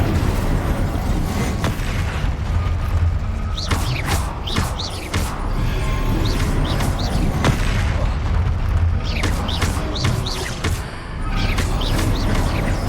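Confringo and Incendio spell explosions in the Hogwarts Legacy video game, repeated booming bursts and crackling impacts in a dense, continuous battle din with no clear pauses.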